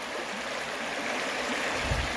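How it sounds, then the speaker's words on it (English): River water runs steadily at a fish dam site, a close, broad, continuous rushing and trickling wash with no voices. "I'm up here at the fish dam site. Water is up quite a bit. Water's running really clear."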